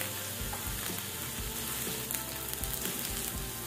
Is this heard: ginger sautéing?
yes